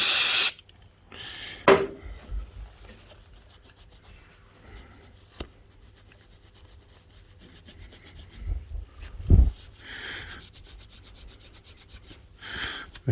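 Honda CB750 K2 motorcycle part wiped with a rag and brake cleaner: intermittent rubbing and scrubbing strokes with short sprays and a few clunks of handling, close and moderately loud, no talking.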